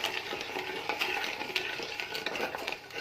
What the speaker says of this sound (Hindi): हमने इसको अच्छे तरीके से हिलाना है